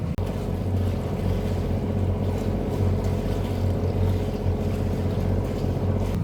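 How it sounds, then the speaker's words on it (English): Two boat engines run together aboard a vessel, a dense, steady low rumble and drone that fills the whole stretch without a break, with some wind noise over it and no talking. "Next, I want to run both engines."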